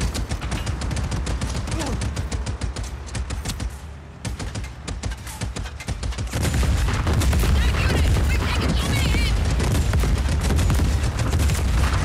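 Continuous gunfire and booms from Just Cause 4, dense rapid shots and blasts that thicken and grow louder partway through, with a faint voice underneath at times.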